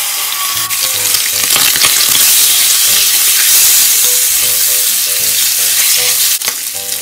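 Half bacon fries in a military-style mess tin with a loud, close, continuous crackling sizzle, and a single clack of metal near the end.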